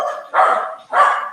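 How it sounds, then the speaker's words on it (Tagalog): Dog barking twice, loud and close, two full-throated barks about half a second apart, with no talk over them. "Gusto makisali ng ano, ng aso."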